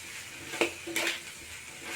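Spoon stirring and scraping a snack in a pan with oyster sauce, a few soft clinks and rustles over a faint sizzle, close and moderate in volume.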